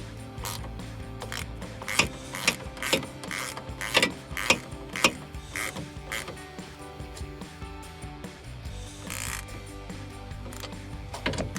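A hand ratchet clicks in quick bursts while tightening the bolts of a chrome upper replacement grille on a 2007-2013 GMC Sierra, close ratcheting strokes with pauses between runs and no talking.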